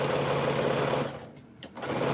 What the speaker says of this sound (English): as we're sewing this by rows, we want to do the same thing